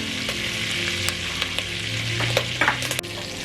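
Cloves, curry leaves and a broken cinnamon stick fry lightly in a pan for yellow rice, a steady close sizzle with a few small stirring clicks and scrapes, no voices.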